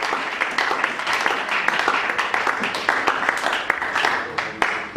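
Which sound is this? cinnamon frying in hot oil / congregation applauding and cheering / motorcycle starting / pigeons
congregation applauding and cheering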